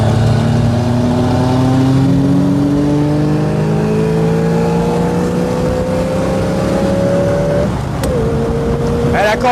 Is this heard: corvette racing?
yes